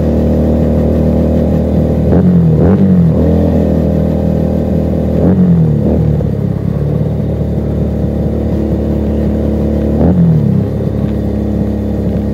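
A Keeway SCR 250V motorcycle fitted with a Mavionic exhaust idles with a steady low rumble, then gives three short throttle blips at roughly even intervals, loud and close.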